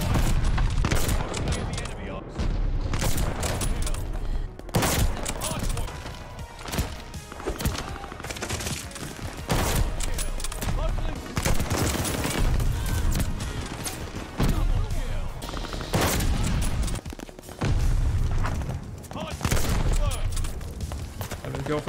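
Rapid gunfire in a video game, with a 20-round weapon firing sustained bursts and repeated shots that run loudly through the whole stretch, mixed with game booms and a player talking over the action.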